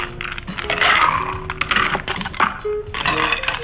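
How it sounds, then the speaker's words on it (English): Ice cubes clattering and clinking into a cocktail glass while a watermelon spritz with champagne is made, a close, busy run of sharp glassy knocks over a few seconds. "Let's add the ice. Beautiful, ice me up."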